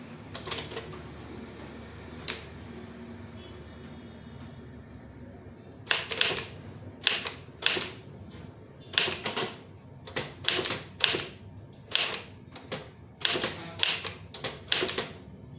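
Keyboard typing for a Tamil-language official letter: after a quiet start with a lone click, rapid close key taps arrive in steady clustered bursts, growing more regular toward the end, no talking.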